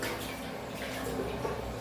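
Running water splashes steadily into a pot being rinsed nearby, a soft continuous wash without pauses.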